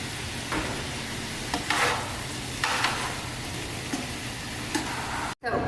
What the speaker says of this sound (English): I've got these in here just to give them a little bit of heat to brown it